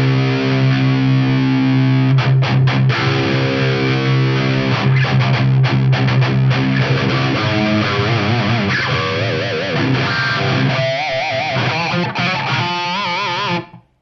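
Distorted electric guitar tuned to drop C, one hard-struck note ringing loud and thick, then the string wiggled so the pitch wobbles and warbles before the sound cuts off abruptly.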